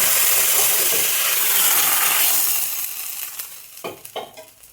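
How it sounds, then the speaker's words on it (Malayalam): Shallots and curry leaves fry in hot oil for a tuna curry, a loud, dense hiss that gradually softens and then gives way to a few quick stirring scrapes and clatters near the end. "ഇതിലേക്ക് രണ്ട് ചുവന്നുള്ളിയും കുറച്ച് കറിവേപ്പിലയും കൂടെ ഒന്ന് വറുത്ത് കൊടുക്കും"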